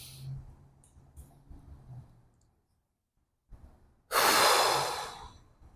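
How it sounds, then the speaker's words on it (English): A person takes a deep breath during guided breathwork, with quiet breathing and a pause of silence before a loud, airy exhale of about a second and a half. "Let us ground our energy with a collective deep breath again."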